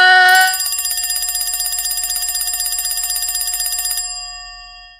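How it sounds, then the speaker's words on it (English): Bell rings out loud and alone for about four seconds, a bright continuous electric ring with a sharp onset and a short fade at the end, like a trading-floor opening bell. "The bells are ringing like it's a stock exchange"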